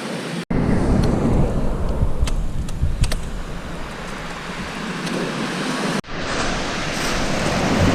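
Incoming waves rolling onto Brighton Marina beach in East Sussex, a loud, continuous wash of surf with gusty wind buffeting the microphone, briefly cut off twice.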